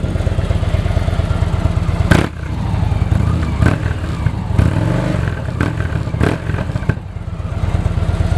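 A 2013 Victory Cross Country Tour motorcycle with a performance exhaust revs hard several times, sharp throttle blips rising out of a loud, steady idle rumble close to the microphone.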